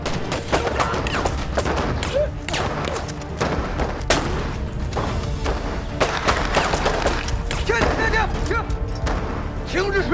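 Soldiers fire guns in a war film set during a Japanese raid on a village, with dense, continuous bursts of rapid gunshots and thuds. Voices shout under the steady, loud barrage.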